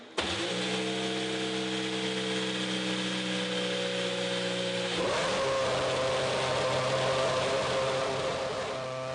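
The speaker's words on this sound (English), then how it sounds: "We'll fire the engine up." A Williams FW29 Formula One car engine at Silverstone fires up and idles with a loud, steady high-pitched drone, then revs up sharply about halfway through and holds a harsher, louder pitch.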